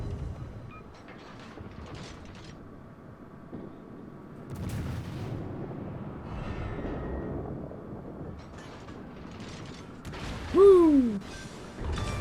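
Naval guns fire at an enemy destroyer in a World of Warships battle, heard as low rumbling booms with a whistling, falling shell tone near the end, under a steady background drone.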